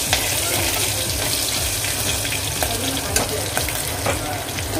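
Asafoetida (hing) frying in hot oil in a pan for kadhi pakoda, giving a steady close sizzle with scattered crackles and faint stirring clicks, no talking.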